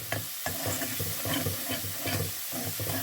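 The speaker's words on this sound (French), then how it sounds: "Je mélange" Spiced coconut curry paste with turmeric and ground coriander being stirred in a pan for a Kerala fish curry, a steady scraping and sizzling that repeats in short strokes over soft frying, with no voices.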